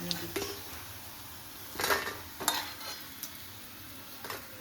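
Fried taro stolon fries are lifted and strained out of hot oil, with a low sizzle underneath and several sharp metallic clinks and scrapes of a utensil against the pan.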